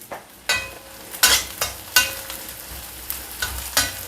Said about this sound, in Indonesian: Ini ditumis dulu sampai wangi ya.